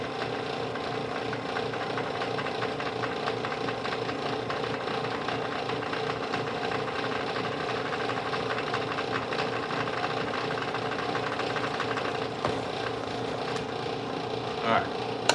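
A sewing machine used for stitching soles onto boots runs steadily to wind a bobbin, a continuous close mechanical whir and hum with a fast even vibration, with someone speaking over it.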